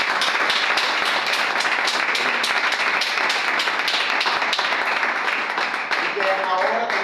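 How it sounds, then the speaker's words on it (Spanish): A church congregation breaks into sustained applause, dense steady clapping from many hands filling a large room, with voices mixed in underneath throughout. "Yo quiero que le demos primeramente un aplauso al Rey de la Gloria"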